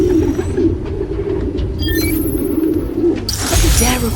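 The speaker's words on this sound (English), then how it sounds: "There's a lot of birds around here." Pigeons cooing in a park in the video game Spider-Man: Miles Morales, soft low coos mixed into a busy rumbling ambient bed with a few brief chirps, moderately loud and steady.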